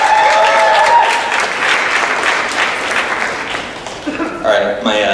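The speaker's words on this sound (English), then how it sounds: "thank you for applauding" An audience at a student campaign rally applauds a young college student speaker, loud sustained clapping that fades toward the end as a voice begins talking over it.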